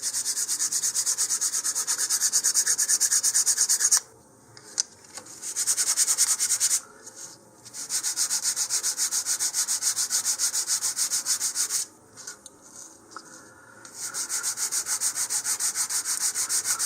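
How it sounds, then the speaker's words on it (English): Steady back-and-forth rubbing of 150 grit sandpaper over a model rocket fin, close and continuous, broken by two short pauses before the sanding strokes resume. "I'm going to move up to 150 grit and just give it another light going over here"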